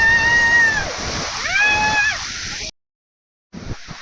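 Water rushes and splashes steadily at Paleshwar waterfall, loud and close, with voices calling over it, then a sudden cut to silence before the churning water resumes.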